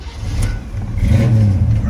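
Box Chevy engine revs up in a low, rumbling surge that swells toward the end, with people talking over it.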